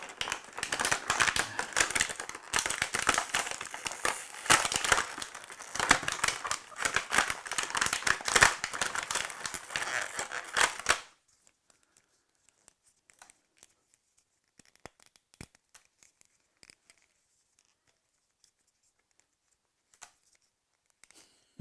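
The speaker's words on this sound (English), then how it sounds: "you just cut the sellotape and you can open them and then reseal them" Sellotape being cut with scissors and toy action figure packaging opened, giving close crinkling, tearing and snipping for about eleven seconds, then mostly quiet with a few faint clicks and rustles.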